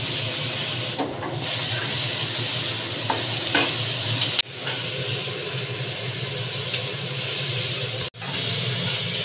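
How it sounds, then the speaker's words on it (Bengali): Chicken pieces frying and steaming in a pan for lemon butter garlic chicken, giving a steady, loud broadband sizzle and hiss throughout, with a few brief clinks and one sharp knock near the end. "এদিকে চিকেনগুলো ফ্রাই হচ্ছে স্টিমে।"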